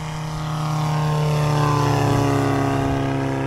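A Gaz'Aile 2 diesel ultralight aircraft takes off, accelerating uphill along a short asphalt strip. Its loud, steady engine and propeller drone swells and holds close, with no talking.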